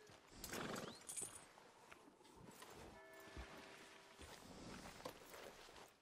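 Horse hooves clip-clop at a steady walking pace, moderately loud, over a soft game-world ambience in Red Dead Redemption 2.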